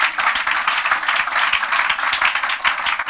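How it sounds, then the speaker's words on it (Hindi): A church congregation at a Hindi-language service claps loudly and continuously, a dense, steady roar of many hands with no pause. "जोरदार ताली बजा के यीशु को धन्यवाद दीजिए"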